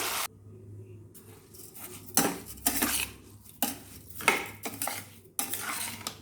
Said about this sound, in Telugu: బాగా తిప్పుకుందాము అంతా కలిసేటట్టు